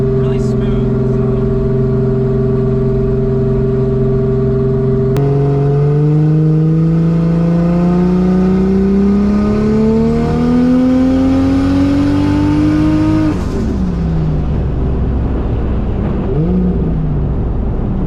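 A street race car's turbocharged engine idles steadily, then revs up in a long rising pull before dropping back, loud and close in a shop, with people talking over it.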